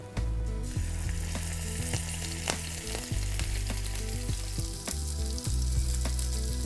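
Lamb racks marinated with honey frying in butter in a pan over medium heat, a loud continuous sizzle with crackling pops and occasional clinks of utensils turning the meat.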